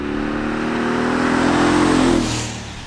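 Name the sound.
2020 Mercedes-AMG G63 engine revving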